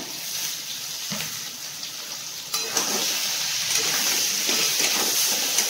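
Slit green chillies drop into hot frying oil with a sudden louder crackle, then settle into a steady, close sizzle with scattered pops.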